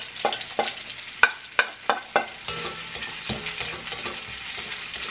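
Garlic and ginger fry in a hot pan for chicken adobo, a steady crackling sizzle broken by several sharp, close clacks of a spatula stirring against the pan, with no talk.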